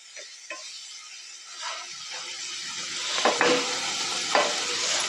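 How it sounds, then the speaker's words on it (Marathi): Spices fry in oil for Punjabi-style chole masala, a steady close sizzle that swells louder midway, with a few clinks and scrapes of a utensil against the pan. "म्हणजे मसाले टाकलेले चांगले शिजले जातात."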